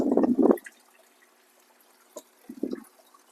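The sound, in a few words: water draining into aquarium sump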